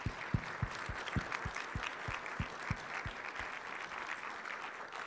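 Audience applause thanking the panelists at a Minnesota brownfields vapor intrusion event, a moderate spread of hand claps with a few sharper, closer claps standing out, steady throughout and fading slightly toward the end.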